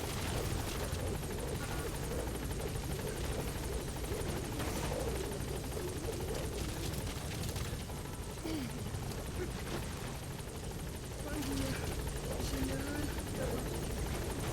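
A support helicopter arrives in Metal Gear Solid V, its rotor thrumming loud and continuous for the whole stretch, with a few brief tonal game sounds layered over the steady chop.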